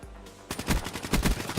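Rapid automatic gunfire from a gun in the video game Black Ops 3 opens with a short burst of quick, evenly spaced shots that sound close and loud.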